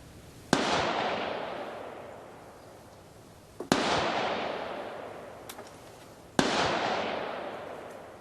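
Three loud, sharp rifle shots from a Polish M44 Mosin Nagant carbine at a 50-yard outdoor range, spaced a few seconds apart, each followed by a long rolling echo that fades before the next.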